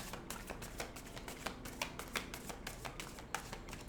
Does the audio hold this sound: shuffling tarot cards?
yes